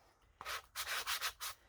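Hand sanding on a painted board gives a quiet series of rhythmic rasping strokes, a short scrape followed by four back-and-forth rubs at close range, with no talking.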